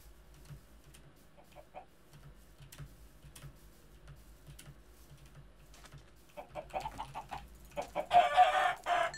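Chickens cluck in soft, repeated bursts in a Minecraft-style survival video game, growing busier and louder toward the end, with ticking sounds throughout.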